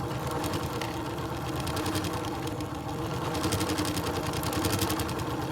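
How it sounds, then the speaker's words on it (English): Sewing machine stitching the tops of fabric layers together for a dress bodice, running in a continuous, steady mechanical whir at close range with no talking. "What I am doing in this clip is I am stitching the tops of some layers together"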